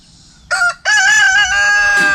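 A rooster crows once, loud and close, with a short opening note and then a long drawn-out call from a loose-ranging farmyard chicken, followed by quieter low background noise.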